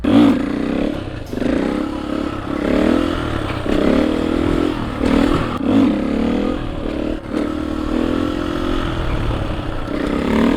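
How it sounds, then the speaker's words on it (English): Supermoto motorcycle ridden hard with the engine revving and pulsing through gear changes, loud and close, with scraping and clatter as the rider attempts a foot drag. "that was not a beautiful foot drag at all"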